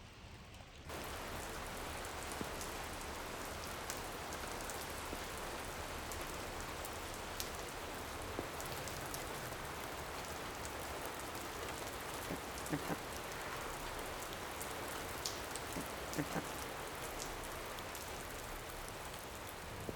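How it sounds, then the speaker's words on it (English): Heavy rain pours steadily, a dense continuous hiss with scattered louder drops and splashes close by; no voices. "walking around in rain quite this heavy"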